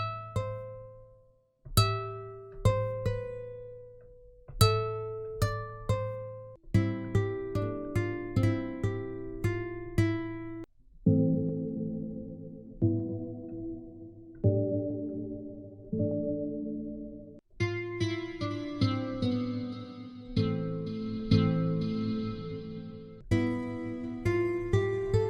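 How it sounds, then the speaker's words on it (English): Clean guitar from the Classic Guitar Lite VST plugin by Quiet Music plays a sequence of plucked notes and strummed chords, each attack ringing and decaying, building to fuller, brighter chords near the end, with no voices. "there's a nice clean guitar sound"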